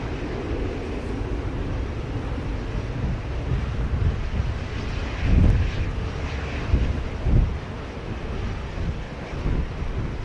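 A United Boeing 737 on final approach to runway 07 at Montego Bay, Jamaica, in strong wind, its distant jet roar blending with gusty wind buffeting and a low rumble that swells briefly midway.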